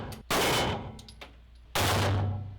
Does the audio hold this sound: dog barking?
no